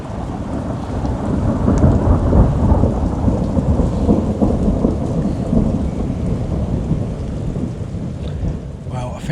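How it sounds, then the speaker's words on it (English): Thunderstorm with a steady downpour of heavy rain and low rolling thunder rumbling throughout, loud and close, with no voices. "It's only a second or two between the lightning and the thunder then."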